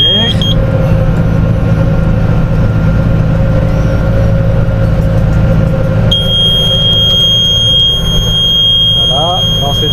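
Hay baler in the field sounding a steady high warning beep before net wrapping of a silage bale, the tone cutting in and holding over loud continuous engine and machinery rumble.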